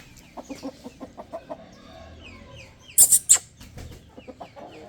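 A rooster at a poultry setup gives a series of short rhythmic clucks, then a few louder, sharper calls up close, with quiet background between them.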